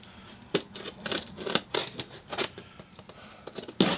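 A box is sliced open with a blade, giving a close run of sharp scraping cuts and tearing cardboard strokes in uneven bursts, with a louder rip at the end.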